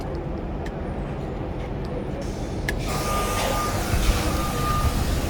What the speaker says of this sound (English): My bus is here.